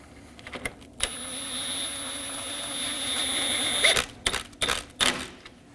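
A ratcheting tool whirs steadily for a few seconds, then several short clicking bursts follow as 10mm intercooler mounting bolts are snugged down on a 2018-2024 Chevrolet Equinox 1.5L four-cylinder.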